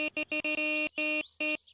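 In the video game My Summer Car, a hot-wired car's faulty alarm sounds its horn in a rapid series of short, loud blasts, broken by a few longer honks.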